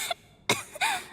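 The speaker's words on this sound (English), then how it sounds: "She's still coughing." A female character in Genshin Impact gives a series of short, close coughs, three quick bursts in a little over a second, with no other sound around them.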